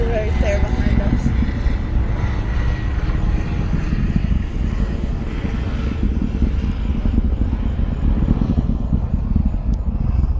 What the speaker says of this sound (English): There's a helicopter right there behind us.